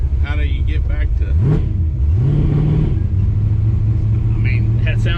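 Chevy C10 truck with a swapped-in LS engine, exhaust spitting from unwelded joints, revs and shifts with a rising, rumbling drone that settles into a steady hum, while people talk over it.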